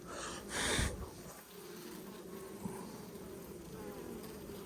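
Honey bees drone in a hive around a queen, a steady close buzz with a brief louder rustle near the start.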